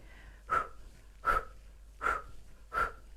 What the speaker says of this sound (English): breathing in and out through this O shape